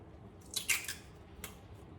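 Micropore tape being snipped with scissors, a few quick crisp cuts close up and fairly quiet, with a short pause before a final snip.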